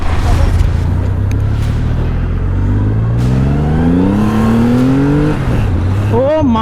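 A Triumph Rocket 3R motorcycle pulls hard under throttle, its loud, close engine note climbing steadily in pitch over rushing wind before easing off near the end.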